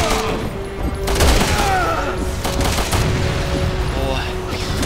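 Gunfire in the Resident Evil 6 video game (Chris story), a burst of loud shots with booming impacts over steady game music and ambience, with a voice talking through it.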